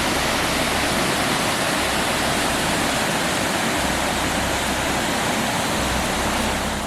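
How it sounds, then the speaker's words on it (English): A waterfall roars steadily, a dense broadband rush of falling water that stays loud and unbroken throughout, with no voices. "Pretty easy waterfall to get to and see"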